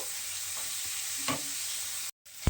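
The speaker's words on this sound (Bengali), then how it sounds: "এইবারে মশলা কিন্তু একটু সময় কষিয়ে নিতে হবে" Spice paste fries in oil for a Bengali spinach dhoka dish, a soft continuous sizzle close by with a brief stir midway, then a short dropout before the sizzle returns.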